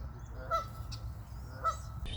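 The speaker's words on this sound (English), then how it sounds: "You guys are pissing off that goose." A goose honks twice, faint and somewhat distant, two short nasal calls about a second apart over a low rumbling outdoor background near a river.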